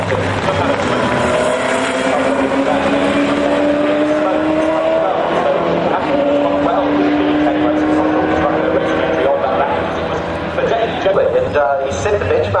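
Race car in the 2011 Bathurst top 10 shootout at Mount Panorama, engine holding a loud, steady high-revving drone as it laps the circuit, with a commentator talking over it throughout.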